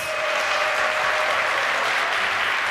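A live crowd at an Age of Empires 2 esports offline event applauds and cheers in a steady, dense wash of clapping that fills the hall, loud and continuous throughout.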